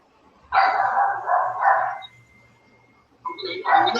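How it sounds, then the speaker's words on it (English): A Pomeranian dog barking and yipping in the background of an online call: several bursts of sharp, high barks over a few seconds, moderately loud, with a short pause between bursts and no clear speech. "That's your dog barking?"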